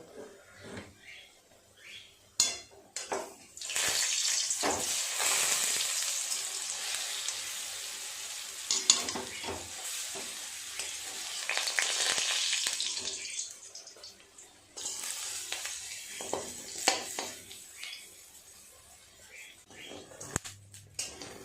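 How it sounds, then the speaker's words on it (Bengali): Steady hissing sizzle of lentil fritters frying in hot oil, with occasional clinks and scrapes of a utensil as they are turned and lifted out, and brief pauses between bursts. "এই বড়াগুলো ভাজা হয়ে গেছে, তুলে নেব।"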